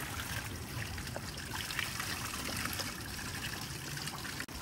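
Cold water from a waterfall near Manali trickles and splashes steadily into a plastic bottle, a continuous close wash of liquid noise without voices.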